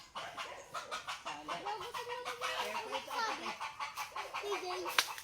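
Hens clucking in a busy, chattering run of short calls, with people talking over them and a sharp knock near the end.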